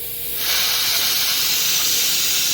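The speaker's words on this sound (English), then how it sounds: "And that will drain the air from the system." Compressed air rushes out of a sandblaster system as it drains, a loud steady hiss that swells in within half a second and then holds close and constant, with no talking.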